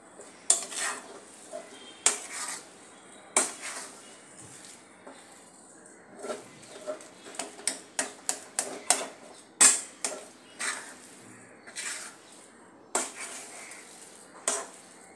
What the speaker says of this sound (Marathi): आता हेही मिक्स करून घेऊया आणि चांगले